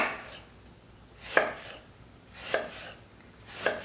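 A knife slices through kimchi vegetables on a cutting board, cut into half-moons and then matchsticks, giving four crisp, evenly spaced chops close by with quiet pauses between.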